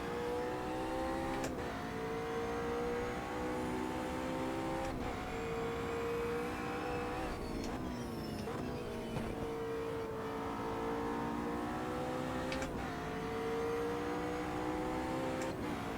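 GT3 race cars, a Mercedes and a BMW, in the racing game Automobilista 2, engines droning steadily at high revs with gear changes and shifting pitch, running continuously without talk.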